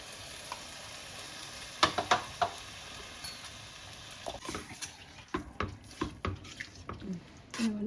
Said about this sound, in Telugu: ఇవి ఫ్రై అయిపోయినాయి కదా, ఇప్పుడు చింతపండు పులుసు తీసేసి పోసుకుందాం